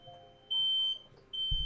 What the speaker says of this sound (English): There's a fire alarm going off in my house